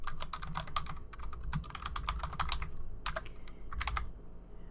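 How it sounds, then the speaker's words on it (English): Rapid clicking keystrokes on a computer keyboard in quick bursts, with a brief pause partway through before typing resumes, close and fairly quiet. "I can start typing their name"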